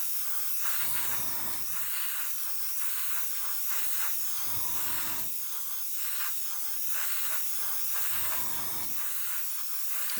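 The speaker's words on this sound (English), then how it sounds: "As you can see, I'm spraying it very," A spray gun hisses in three separate bursts of Japanese MRP paint, each a second or so long, with steady background noise between them.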